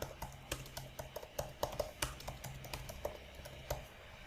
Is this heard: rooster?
no